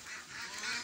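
A flock of ducks honks and quacks in a brief, faint, noisy burst of overlapping calls at a short distance.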